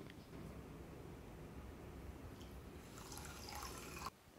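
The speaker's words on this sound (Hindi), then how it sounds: "इसमें डालेंगे हम एक कप पानी" Water runs and splashes steadily into a pan holding sugar, about four seconds of continuous rushing pour that cuts off abruptly near the end.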